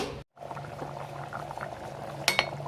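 Chicken biryani with rice simmers in a pressure cooker, a steady soft bubbling boil with a couple of brief clinks of a utensil near the end.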